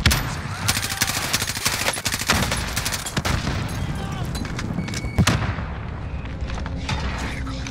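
Near-constant gunfire in a Call of Duty zombie fight in Verdansk: dense rapid shots and automatic bursts, close and loud, with a heavier boom partway through before the firing thins out.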